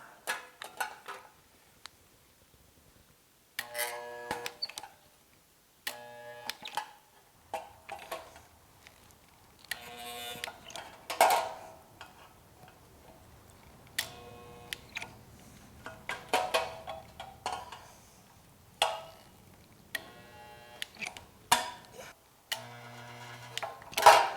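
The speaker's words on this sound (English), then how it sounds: "let's go ahead and get this thing spot welded on" A spot welder fixes a seat belt mounting piece, clamped to a bench, while rear shoulder belts go into a muscle car. About ten short, sharp buzzing bursts fire one after another, close up, with quiet gaps between.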